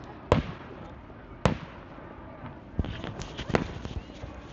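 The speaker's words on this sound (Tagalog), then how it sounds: "Ang ganda ng fireworks." A Canada Day fireworks display at Downsview Park in Toronto, with sharp distant booms: two isolated bangs, then a quicker cluster of several pops, over a low crowd murmur.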